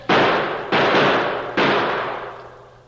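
Three loud gunshot blasts in an old-time radio drama shootout, each a sharp broadband crack with a long decaying tail, fired about 0.7 and 0.9 seconds apart with no voices in between.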